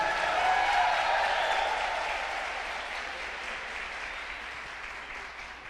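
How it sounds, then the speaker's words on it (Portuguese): A church audience in Brazil claps warmly for several seconds, a dense, steady patter that is loudest at first and slowly thins and fades toward the end. "uma salva de palmas para Jesus"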